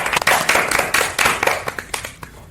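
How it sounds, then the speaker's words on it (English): A small group claps for a guest speaker at a mental health podcast event, a brief, uneven burst of close hand claps with distinct individual strikes that thins out quickly. "can we please have a round of applause for her?"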